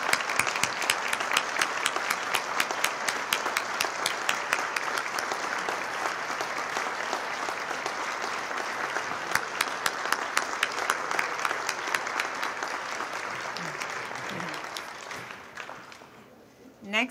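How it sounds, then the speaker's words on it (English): Audience applause for city staff at a West Covina State of the City and employee recognition ceremony: sustained, dense clapping from a large crowd for about fifteen seconds, then fading out near the end. "if we could give them a round of applause"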